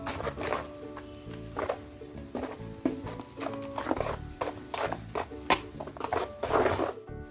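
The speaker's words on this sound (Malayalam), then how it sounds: "ഇളക്കി കൊടുക്കാമേ" A homemade liquid dish cleaner is stirred after baking soda is added, making it foam up. Quick, rhythmic tapping and clinking of the stirrer against the container runs throughout, fairly quiet and close, with no talking.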